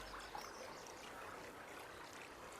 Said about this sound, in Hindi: यहाँ पानी की गूंज सुनाई दे रही है।